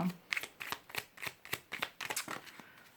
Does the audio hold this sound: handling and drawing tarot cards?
yes